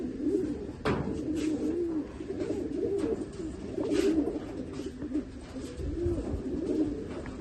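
Murichundan pigeons coo in repeated soft, rolling low calls close by, one call after another across the stretch, with occasional sharp knocks and flutters in a quiet loft setting.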